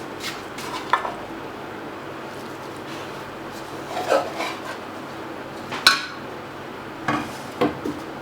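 Chicken set into a pot of salt for steaming, heard as sparse faint clinks and scrapes of pot and utensils with soft rustling between, in a quiet kitchen.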